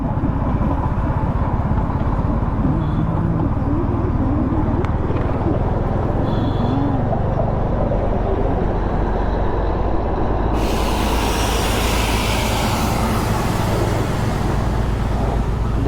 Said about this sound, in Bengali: আমরা এসেই টয় ট্রেনের সাথে সাথে চলছি